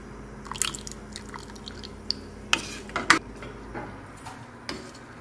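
A pot of South Indian sambar simmering, with scattered soft pops and plops of bursting bubbles, some sharper than others, over a faint steady background hum.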